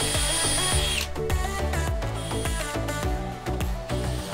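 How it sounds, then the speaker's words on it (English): A power drill runs while driving into a bowed board for a chicken tractor build, with repeated whirring bursts in a steady rhythm, close and loud, and no talk over it. "you stick your drill in like this, and then you start it"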